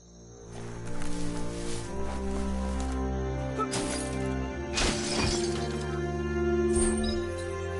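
Wooden box smashed apart in the video game Biomutant, a few cracking, splintering bursts over steady game music, with breaking hits clustered around the middle.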